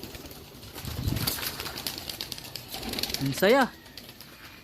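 Homing pigeons flying in circles overhead, a muffled flutter of flapping wings heard under a man's chatter, with a few short coos and birdcalls toward the end.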